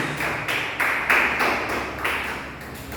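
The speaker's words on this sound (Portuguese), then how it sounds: "palmas que glorificam o nome de Jesus Cristo, o nosso Salvador" Congregation in a church service clapping together in praise of Jesus, a dense, steady wash of many hands with rhythmic swells, fairly close and loud, with no talking over it.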